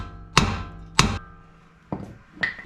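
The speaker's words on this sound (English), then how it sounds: "if you give the knuckle a couple of taps, normally I'll break this free" Hammer blows on a Ford Bronco steering knuckle being knocked free, four sharp metallic strikes: two loud, evenly spaced hits followed by two lighter taps, ringing briefly, with no talking.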